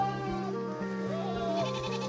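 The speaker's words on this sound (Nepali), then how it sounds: "बाख्राहरू ल्याउँदै हुनु रहेछ अङ्कलहरूले" Goats being herded on foot from Bhojpur toward Chatara in Nepal, near a suspension bridge, bleat close by, with several overlapping calls rising and falling in quick succession and no talk.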